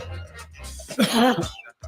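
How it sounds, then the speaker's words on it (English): A single short, throaty cough rises sharply, followed by a quick breath, close to the microphone. "do you have a cough due to cold?"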